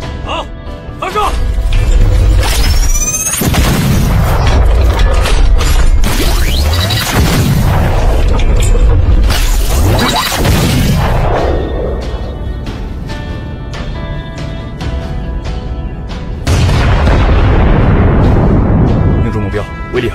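Battlefield artillery fire and explosions from an air strike on an enemy base in a Chinese action drama, heavy booms and crashes rolling nearly continuously at close range, with whooshes and a fresh blast surge near the end.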